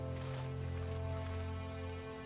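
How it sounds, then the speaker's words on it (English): Rain falling in the video game The First Tree, a steady pattering patter under a continuous low ambient drone, even and moderately loud throughout. "It's starting to rain. Really been raining for a bit."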